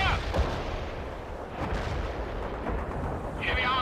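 A tank cannon fires a HEAT round in the World in Conflict video game, a heavy booming blast with rumbling low-end decay, followed by a brief radio-style crackle, with battle noise filling the background.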